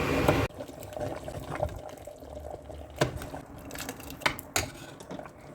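Hot water poured into a simmering pot of Tunisian pasta, a trickling, splashing liquid sound with scattered drips and clinks over a low kitchen rumble, preceded by a brief louder burst.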